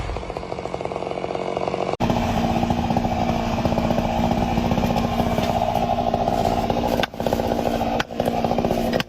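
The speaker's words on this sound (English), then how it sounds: "The chainsaw roars, its sharp blade slicing through the timber with the ease of a hot knife through butter." A chainsaw cuts through a tree trunk, its engine a loud, steady close-up roar that briefly dips three times without stopping.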